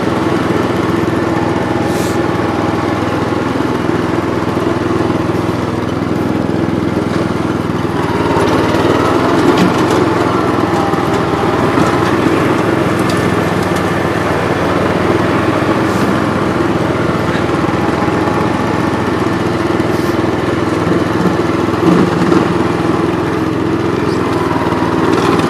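An Outpost Pro 12 power broom clearing snow, a loud, steady small-engine drone with a constant whirring roar that holds almost unchanged throughout, close by with no talk over it.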